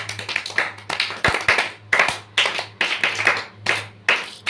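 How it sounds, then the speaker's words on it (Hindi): Steady group clapping in repeated bursts, close and lively, with short pauses between rounds and a low hum underneath. "हाँ वेरी गुड, रेशमा के लिए ताली।"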